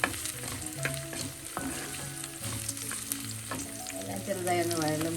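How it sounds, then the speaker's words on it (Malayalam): Shallots, green chillies and split red chillies sizzle in hot oil as they are stirred, with clinks and scrapes of the utensil over a dense, close frying crackle. "കുറച്ച് ചുമന്നുള്ളി വരുന്നത്, 2 പച്ചമുളക്, 2 ചുമന്ന മുളക് കീറിയത് എല്ലാം കൂടെ ചേർത്ത് നന്നായി ഈ ഓയിലിൽ ഒന്ന് ഇളക്കാം"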